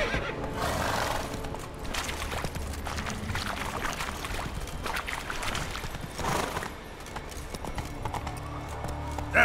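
Roach, the horse in The Witcher 3, gallops with steady, close clip-clop hoofbeats and gives loud whinnies and neighs over a busy game soundscape.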